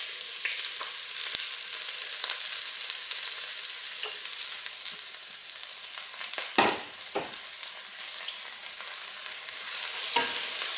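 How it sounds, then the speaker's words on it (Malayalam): Sliced onions go into a hot pressure cooker to fry in coconut oil, giving a steady sizzle with a few louder scraping stirs, close by and with no voices. "അപ്പം ഞാൻ സവാള അരിഞ്ഞ് വെച്ചതിനകത്തേക്ക് ചേർക്കുന്നുണ്ട്."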